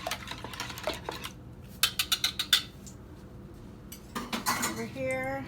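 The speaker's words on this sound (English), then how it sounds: "Give this a quick whisking." Eggs whisked in a bowl for a homemade breakfast, a quick run of close metallic clinks and taps against the bowl, moderately loud over faint kitchen background.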